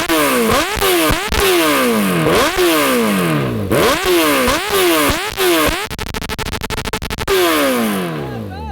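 A supercharged Kawasaki Ninja H2 motorcycle engine revs hard and close in a series of sharp throttle blips, each rising then falling away, with a rapid burbling stretch before a final long rev that fades down.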